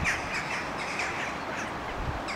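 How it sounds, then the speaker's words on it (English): Several crows caw from a tree beside a drizzly woodland trail on the Granite Way near Meldon Wood, repeated harsh calls at moderate distance over steady rain and breeze. "look at all these crows in this tree here"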